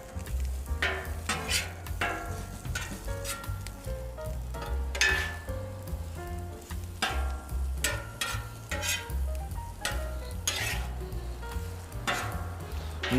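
Potatoes frying on a Camp Chef Flat Top Grill 600, cooked a little too hot, with a steady close sizzle and crackle over a low burner rumble, broken by frequent scraping and stirring clicks of a spatula.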